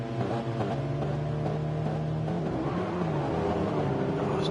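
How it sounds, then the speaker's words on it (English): Ford Focus Cup race cars at Bathurst's Mount Panorama circuit rev at the start, a steady mid-distance engine drone that rises in pitch, heard without any talk over it. "Right, revs are up."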